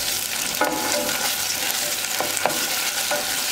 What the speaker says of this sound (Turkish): Bir süre de salçayla kavuracağım.